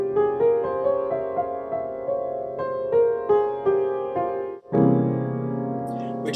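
An F harmonic minor scale is played as a run of single notes, about eight in an even rhythm, followed by a full chord struck near the end that rings out.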